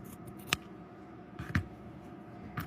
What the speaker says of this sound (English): I'm going to cut this on this side, and then I'm going to cut this end off of this side